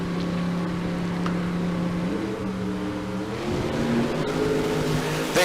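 Bracket dragster at Tucson Dragway making a pass, a steady loud engine drone that climbs and shifts in pitch midway, heard at some distance with a continuous roar throughout.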